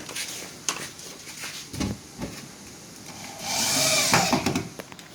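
Screws driven into pre-drilled holes in knockdown three-door wardrobe panels, with a few sharp knocks and thumps, then a short, loud whirring burst from a power driver near the end.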